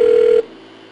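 A telephone tone sounds loud and steady for under half a second inside an automated call line, then cuts off, leaving a faint low hum.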